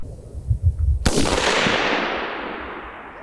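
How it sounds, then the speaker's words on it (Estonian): A single sharp infantry rifle shot rings out outdoors at a military unit's traditional target shoot, a loud crack about a second in that decays into a long fading echo. "Vaid lasta tuli pataljoni ülema käekella pihta."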